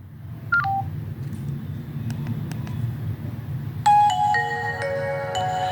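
An old phone, reset and set to the Nokia tune, sounds a few short electronic beeps, then a bright melodic run of ringtone notes at the end over a steady low hum.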